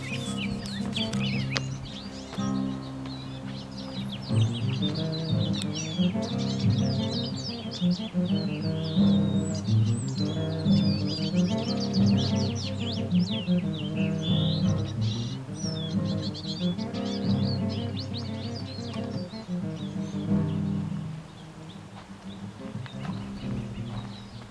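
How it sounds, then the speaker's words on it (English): Many birds chirp and sing continuously among the trees along a dry creek bed, with layered calls over a steady low hum. "We got plenty of bird song"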